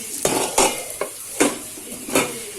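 Schezwan fried rice mixture stirred and scraped in a pan with a utensil, five distinct bursts of metallic scraping over a soft sizzle, close and fairly loud.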